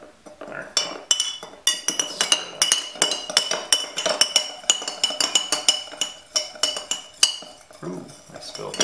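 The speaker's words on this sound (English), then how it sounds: "Do you want to stir it? Just stir it really soft so all the salt dissolves." A spoon clinks repeatedly against a container while stirring a salt and vinegar solution, with rapid metallic taps in an uneven rhythm, close and fairly loud, and no talking.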